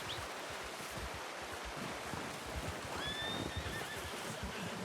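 In Red Dead Redemption II, a horse whinnies softly at a distance over a steady snowy ambient wash, with a brief high-pitched neigh rising and falling midway.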